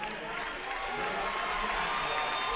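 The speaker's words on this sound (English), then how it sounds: "Seligowski getting a big round of applause" A crowd at a girls high school basketball sectional championship gives a player a sustained, even round of applause and cheering that fills the gym, with a voice faintly underneath.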